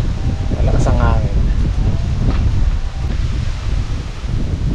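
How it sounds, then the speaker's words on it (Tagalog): Strong wind blows across an ampalaya and okra farm, a steady loud roar buffeting the microphone, with a voice briefly heard over it. "malakas ang hangin"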